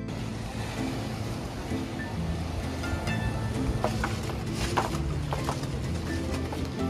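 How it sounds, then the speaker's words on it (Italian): Rough, choppy sea breaking along the Ligurian coast on a Saturday, a steady wash of surf with wind buffeting the microphone and a few sharper splashes and knocks near the middle. "Il mare quel sabato era un po' mosso"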